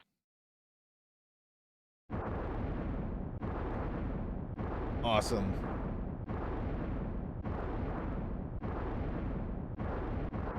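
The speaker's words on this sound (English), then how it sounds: "Big, epic Super Nintendo explosions." Big, rumbling explosions from the Super Nintendo game Secret of Evermore burst out after two seconds of silence, a steady run of blasts about a second apart that stays loud to the end, with a bright chime ringing out midway and a voice speaking briefly.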